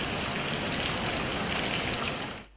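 Heavy monsoon rain pours down in Lahore, a dense, loud, continuous hiss of water hitting streets and roofs that cuts off abruptly at the end.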